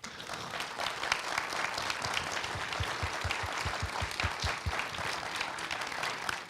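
Audience applause for panelists at a talk on the digital world, steady, dense clapping from a large crowd, sustained throughout and heard alone.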